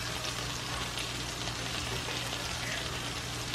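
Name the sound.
butter and oil sizzling in a pan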